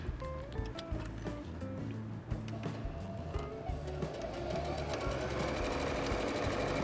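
A sewing machine runs a backstitch on a seam: rapid, close mechanical stitching that stops and restarts in short bursts, then settles into a steady continuous whir. There is little or no talk.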